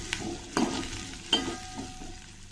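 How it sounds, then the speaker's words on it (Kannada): Chopped onion and curry leaves sizzling in a mustard-cumin tempering, a steady close frying hiss broken by a few scraping stirs. "ಒಂದು ನಿಮಿಷ ಇದನ್ನು ಸ್ವಲ್ಪ ಫ್ರೈ ಮಾಡ್ಕೊಳ್ತೀನಿ"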